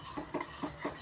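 Spoon stirring tea as it boils, four quick metallic clinks against the inside of the pot at a steady pace, close and clear over a faint bubbling background.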